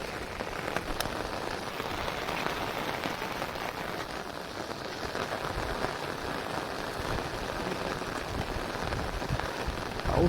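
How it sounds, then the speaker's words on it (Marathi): Steady rain patters densely on surfaces beside a dam during net fishing, a constant close wash of drops with no voices. "पाऊस चालू झालाय"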